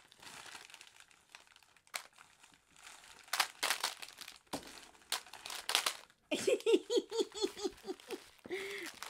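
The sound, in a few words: opening an envelope of mail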